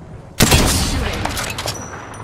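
A sudden loud burst of rapid gunfire in Apex Legends opens a crackling volley of shots that rattles on and slowly thins out, with brief voice lines from a game character around it.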